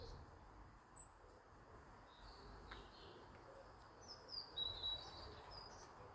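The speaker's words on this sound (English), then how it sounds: "you can hear all the birds is singing" Birds sing outdoors, scattered small chirps and tweets coming faint and from a distance over a quiet hiss of background ambience.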